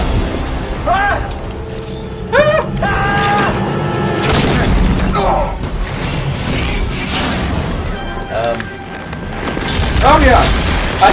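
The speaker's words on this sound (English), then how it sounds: "No, explosion" Explosions in the video game Dead Space 3 arrive as heavy booms and bursts over a continuous rumble, while a player's excited voice talks over the action.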